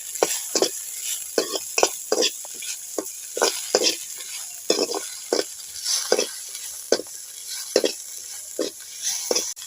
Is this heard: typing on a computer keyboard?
no